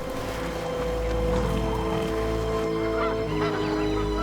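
A flock of wild geese honks repeatedly, the calls overlapping in a busy chorus at moderate distance.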